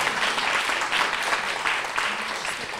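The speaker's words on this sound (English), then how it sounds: "Another round of applause." Audience applause at a book award ceremony for the Irma & James Black Award and Cook Prize, a steady, dense clapping that fills the hall for the whole stretch at an even level.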